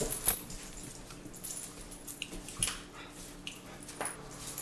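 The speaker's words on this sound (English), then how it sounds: "Are the dogs trying to kill each other down there in the corner?" Dogs snarling, yipping and whimpering in a scuffle, sporadic bursts heard from a short distance in a fairly quiet space.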